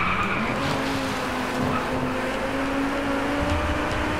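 A Lamborghini Gallardo LP 570-4 Squadra Corse racing in Driveclub brakes hard, its tyres skidding and squealing over a steady, loud engine drone that holds without a break.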